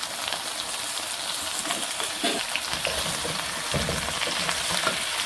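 Chicken curry with cauliflower, turmeric and coriander powder frying in a pan produces a dense, continuous sizzle up close, with stirring scrapes and soft clinks running through it and no voices.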